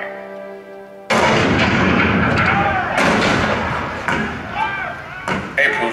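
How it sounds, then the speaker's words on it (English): Cannon fire marks the start of the war at Fort Sumter in April 1861: a sudden loud blast, then heavy rumbling booms and further shots rolling on over dramatic sound. "The cannon spoke for war, bitter, violent, and devastating."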